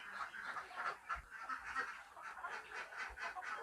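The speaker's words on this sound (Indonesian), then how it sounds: "itu dia sudah mulai tampak ayam jenis KOB2 yang ada di kandang kita" Flock of KUB-2 village chickens in a rearing coop, a steady mass of overlapping clucks and calls at moderate distance, with no talking.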